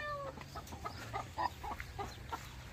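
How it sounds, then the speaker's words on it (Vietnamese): Chickens cluck and chatter as they are fed, a run of short close clucks and squawks with a steady low hum underneath. "em cho gà ăn cho nó ăn"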